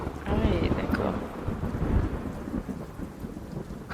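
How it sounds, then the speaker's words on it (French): Thunderstorm ambience during a French tabletop role-playing session, with a deep rolling thunder rumble and steady rain wash filling the whole stretch at fairly loud level, no voices. "il y a l'orage qui tonne à la fin"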